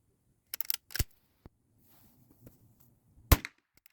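Budget CCI Blazer .22LR 40-grain rounds are fired during ammunition testing, giving a sharp, snappy report followed later by a second crisp crack, with faint clicks and quiet stretches between.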